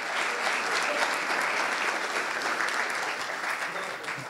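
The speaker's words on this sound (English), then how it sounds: "So can we just have a round of applause to our co-host," An audience at a networking event gives a round of applause for the co-host, loud, dense and continuous clapping that holds steady and eases only slightly toward the end.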